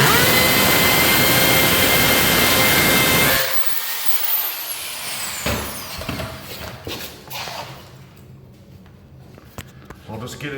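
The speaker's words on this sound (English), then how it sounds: "This is a 3/16 masonry bit. And so all I'm going to do is drill in." A drill with a 3/16-inch masonry bit bores in at a flooring install with a 1 1/4-inch screw, giving a loud, harsh continuous whir for about three seconds before cutting off to quieter scattered handling noises.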